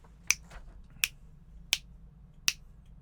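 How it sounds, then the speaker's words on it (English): Four crisp finger snaps evenly spaced about 0.7 seconds apart, marking a steady quarter-note beat in a music theory lesson, close and alone over faint room hum. "as soon as I just snapped one finger, that's equal to that one snap"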